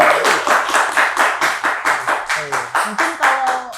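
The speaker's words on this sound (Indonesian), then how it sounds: "Tepuk tangan dulu dong" A small group claps together in a steady, rhythmic beat during an Indonesian talk show, loud and close, each clap landing in a regular pulse with faint voices murmuring underneath.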